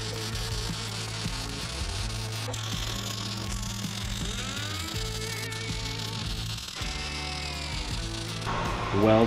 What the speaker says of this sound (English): I'm gonna go ahead and weld those things in right there.